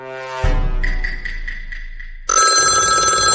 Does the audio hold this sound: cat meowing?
no